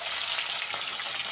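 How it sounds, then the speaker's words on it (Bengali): Bata fish frying in hot oil in a wok, a close, steady, bright sizzle that hisses on without a break. "তেল গরম হয়ে গেছে, এবার বাটা মাছগুলো একে একে ছেড়ে দেবো।"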